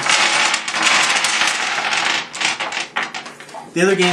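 Dice for the SET dice game clatter onto a table in a dense burst of sharp plastic clicks and rattles, thinning into a few scattered hits before a voice briefly starts speaking at the end.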